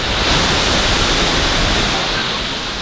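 Janet's Foss waterfall in the Yorkshire Dales pours in a steady, loud, broadband rush that stays constant and close throughout, easing slightly toward the end.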